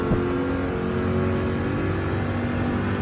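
A race car engine pulls hard in second gear on a circuit, a loud continuous droning roar heard close and steady throughout.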